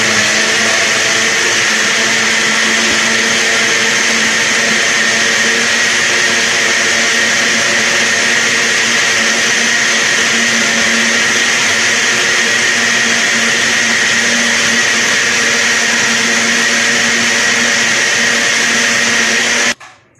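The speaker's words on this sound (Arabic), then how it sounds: "المهم دابا غادي نميكسيو هاد المكونات" An electric blender whirs loudly and steadily for about twenty seconds as it mixes sugar and oil for an apple tart, holding a constant high motor whine before cutting off abruptly.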